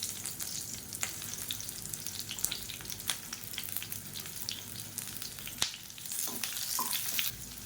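Onions frying in a pan with chillies, salt and a small piece of tamarind for a chutney, giving a steady close sizzle with scattered crackles and light stirring clicks throughout, no voices.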